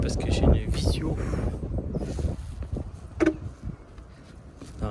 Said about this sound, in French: le vent se lève. Vent d'ouest, ça caille